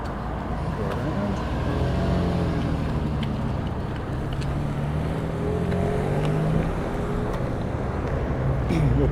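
Road traffic on a steep city street in Helena, Montana, rumbles as a continuous loud wash of passing engines, with broad wind noise over the microphone and no talk.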